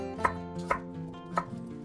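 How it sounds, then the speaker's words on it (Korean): A knife chops one piece of ginger on a cutting board while kimchi ingredients are prepared. Three sharp, separate chops land about half a second apart over a steady musical background. "생강 1톨 썰어주고요."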